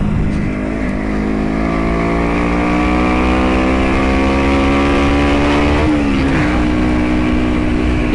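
A 125cc cruiser motorcycle accelerates with a steady, rising engine drone that climbs through its gears for about eight seconds, loud and close, with a brief shift in pitch near the end and no talking.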